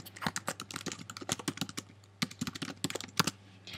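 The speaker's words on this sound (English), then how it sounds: "what I'm going to do now is I'm going to type" Quick, uneven bursts of typing on a computer keyboard, crisp key clicks close by with short pauses between runs.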